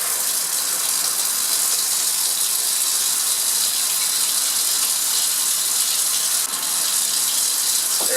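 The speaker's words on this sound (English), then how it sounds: "Get the vacuum started." Laboratory vacuum pump running steadily during vacuum filtration through a medium glass frit, a loud, continuous broadband hiss and rush that stays constant throughout with no speech.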